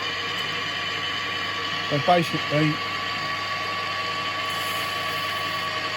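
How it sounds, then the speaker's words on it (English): Steady mechanical whirring of a metal lathe drilling brass in a workshop throughout, with a brief spoken phrase over it in the middle. "Sorry about the noise from the lathe."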